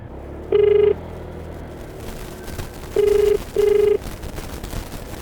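Outgoing phone call tones while a motorcycle taxi rider rings a passenger: three separate flat, steady ringback or dial beeps, the first alone and the last two close together, loud over a low background rumble.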